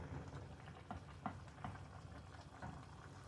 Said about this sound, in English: we'll just let it boil like that